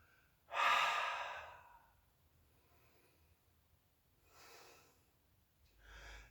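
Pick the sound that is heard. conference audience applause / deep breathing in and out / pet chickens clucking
deep breathing in and out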